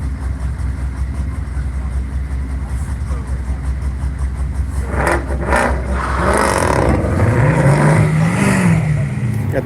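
A Goodyear Camaro race car accelerates away at a Nelson Ledges track event, its engine swelling from a steady background rumble into a rising, whining pull, with voices talking over it.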